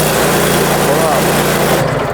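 A Scag V Ride 2 stand-on mower with electronic fuel injection runs at a steady low idle, its engine drone continuous and close, then cuts off at the very end as the throttle drops.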